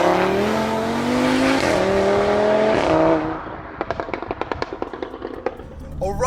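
A tuned Stage 3 Audi RS3 making 685 bhp, driven on the road: a loud engine note climbs through several gear changes, then on lifting off it breaks into a rapid, crackling burst of exhaust pops.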